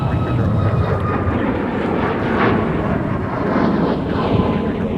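A passenger airliner rolls along the south parallel runway, 30 Left, at Minneapolis–Saint Paul airport, producing a loud, sustained, close jet engine roar that stays steady throughout.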